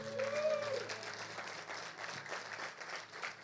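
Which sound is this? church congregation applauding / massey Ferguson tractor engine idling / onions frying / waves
church congregation applauding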